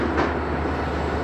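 Locomotives push a string of rail cars over the hump at BNSF's Northtown rail yard, a loud steady rumble of engines and rolling cars with no voices.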